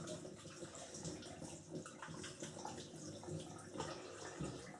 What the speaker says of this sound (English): Now wash your hands.